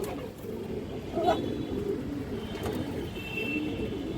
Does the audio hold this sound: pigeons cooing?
yes